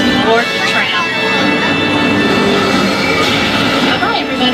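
An open-air studio tour tram at Universal Studios Hollywood rolls along with a steady rumble and faint squeals, while a guide's amplified voice talks over it.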